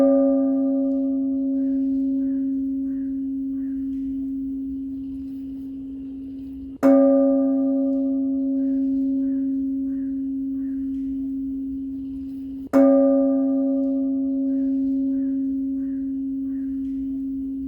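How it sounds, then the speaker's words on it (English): A large bell, the UN Peace Bell, is struck twice at a ceremony, each strike giving a sharp attack and a long, steady humming tone that rings on between strikes. "he will ring the bell first"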